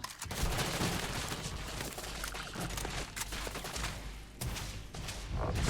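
Rapid bursts of gunfire from the video game Starfield crackle continuously at moderate level, a dense volley with brief gaps and no clear speech.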